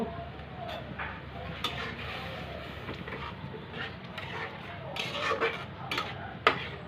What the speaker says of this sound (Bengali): একটু আদা বাটা এখন আমি কষিয়ে নেব